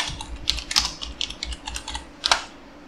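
Close, steady keystrokes on a computer keyboard while a shell script is being entered, light irregular clicks with a few sharper presses standing out.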